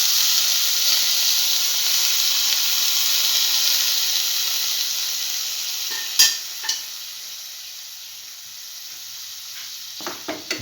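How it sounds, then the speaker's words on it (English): A potato and coconut mixture sizzles steadily in a hot pan, a loud broad hiss that eases off midway, followed by a few scraping stirs and clinks near the end. "Now put in the potato coconut mixture that we put earlier into this mixture."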